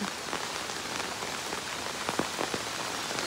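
Heavy rain pours steadily in the Konkan countryside, a dense, continuous hiss of drops hitting surfaces and water, loud and unbroken throughout.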